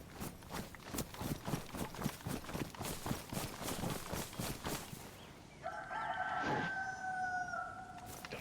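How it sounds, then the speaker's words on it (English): A rooster crows in the DayZ video game, a loud drawn-out cock-a-doodle-doo near the end, preceded by rhythmic clip-clop steps and clucking fowl. "Oh, I hear a chicken somewhere."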